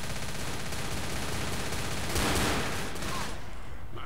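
Rapid automatic gunfire in the video game Left 4 Dead crackles in a dense continuous burst, with a louder blast midway before tapering off.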